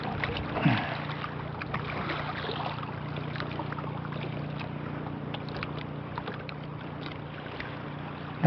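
Wind blows steadily at sea around a small fishing boat, a broad continuous rush with low rumble and faint water movement, one brief bump near the start.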